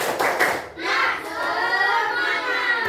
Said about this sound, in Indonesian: Kita tepuk semangat, bisa? Tepuk semangat.